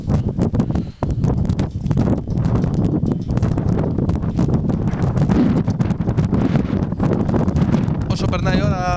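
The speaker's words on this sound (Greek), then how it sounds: "Όσο περνάει η ώρα δυναμώνει και ο άνεμος εδώ στην ΑΟ Σύρου" Strong wind buffets the microphone in loud, continuous gusts at a football match on Syros, with a voice talking over the roar throughout.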